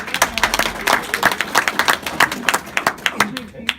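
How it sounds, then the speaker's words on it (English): A small gathering bursts into clapping, with distinct, fairly close handclaps in an uneven rhythm and a voice or two speaking over them. "Let's give a round of applause."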